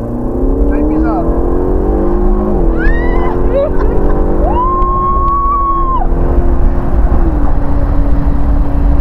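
A car engine revs up under full throttle, pitch rising and falling as the driver floors the pedal, loud and steady, with someone giving instructions over it.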